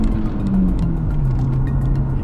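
Golf GTI engine pulls hard in first gear, a loud, steady interior drone with rising tone under continuous road noise and no talking.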